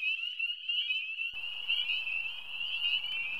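An American toad gives its long, steady musical trill, a sustained high-pitched buzz that runs unbroken for several seconds, close and clear with faint outdoor background noise.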